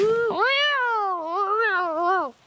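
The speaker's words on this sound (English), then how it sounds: "that's a cat. A cat in a hat." A cat meows in one long, drawn-out, wavering call that rises and falls before cutting off, loud and close, with no other sound around it.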